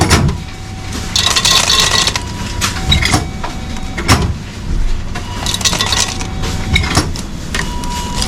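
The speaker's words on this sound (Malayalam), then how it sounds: "ഇപ്പം ഞാൻ ഇതെടുക്കാമെന്ന് വെച്ചു അപ്പം ഇത് ഇരുപത് ഭാഗത്ത് നമ്മൾ ഐസ് ഇങ്ങനെ നിറയ്ക്കാം" Ice is filled into a glass on a Pattaya street, with repeated clattering and clinking bursts of cubes against glass, fairly close and loud over steady background street noise.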